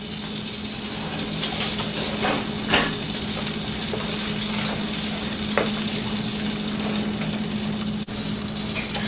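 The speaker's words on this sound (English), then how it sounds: "now that I've melted my butter" Melting butter sizzles steadily in a frying pan for old-fashioned Southern fried apples, a close, continuous crackle with a few faint clicks and scrapes and no voices.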